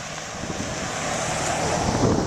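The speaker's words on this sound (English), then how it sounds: "It's always a little breezy this time of year." An outdoor breeze buffeting the microphone, a steady broadband rushing that swells slightly louder toward the end, with no other sounds standing out.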